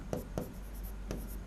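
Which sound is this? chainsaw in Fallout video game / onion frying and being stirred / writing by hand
writing by hand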